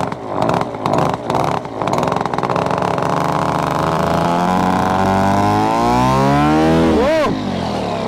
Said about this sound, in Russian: надо прогазовать двигатель, попробовать, как он на приеме сейчас работает